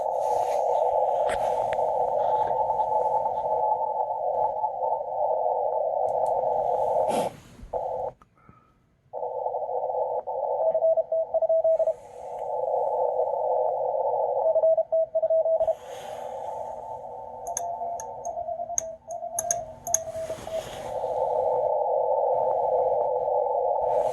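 Morse code tones from an amateur radio receiver switched to CW mode during a crowded pileup: a loud, steady whistle-like tone runs almost continuously, broken by brief gaps and keyed flutters, with crackly static bursts behind it.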